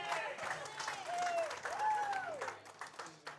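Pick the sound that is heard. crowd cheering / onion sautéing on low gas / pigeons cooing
crowd cheering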